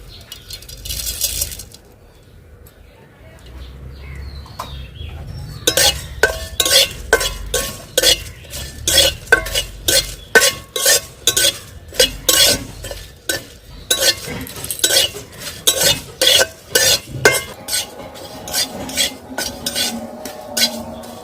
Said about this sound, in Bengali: প্রথমে শুকনা খোলায় শুকনা মরিচ, তেজপাতা, মৌরি, জিরা, ধনে হালকা ভেজে নেব।